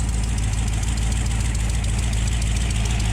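A car engine idling close by, a steady low rumbling drone with a constant mechanical hum and no talking.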